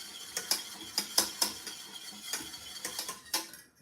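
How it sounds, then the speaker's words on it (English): Hot chocolate being whisked hard in a pot gives a quick, irregular run of sharp metallic clinks and scrapes, fairly close and moderately loud. "If there is a skin, just whisk very strongly and it's gonna disappear."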